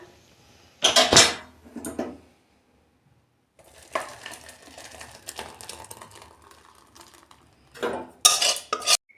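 Cooked milk vermicelli (shemai) is poured from a pot into a dish, with clattering pot-and-spoon knocks, scraping and wet slopping bursts separated by a short quiet pause.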